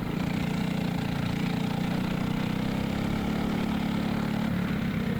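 A go-kart engine buzzes loud and close during a race, a steady droning rasp with slight pitch wavering and no pauses, and no talk over it.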